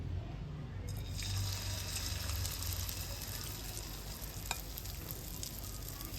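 Shredded cabbage vadas fry in a pan of hot oil with a constant close sizzle and faint bubbling, steady and even, with one small clink of a utensil and no talking.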